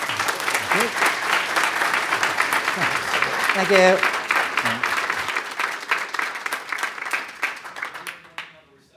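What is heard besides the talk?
audience applause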